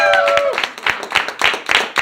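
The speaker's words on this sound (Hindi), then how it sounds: "जोरदार तालियों से स्वागत कीजिए मैम का" A studio audience claps in welcome for a female guest, bursts of hand claps rising and falling after a short tone fades out.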